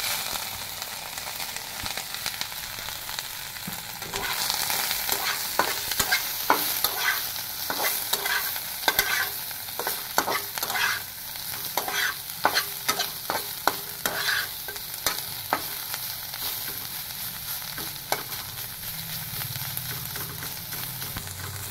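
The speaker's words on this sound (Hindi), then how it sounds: "और अब इस मशरूम को थोड़ा फ्राई कर लेते हो।" Steady sizzling of mushrooms frying in oil, with repeated scraping and clinking strokes of a utensil stirring through the pan, close up and continuous.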